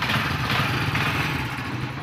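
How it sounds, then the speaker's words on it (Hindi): A Honda CD 70 motorcycle engine, just kick-started after a spark plug fix, runs at a steady close idle with a continuous, even chug and no pauses. "अब जो है मोटर बाइक स्टार्ट करते हैं"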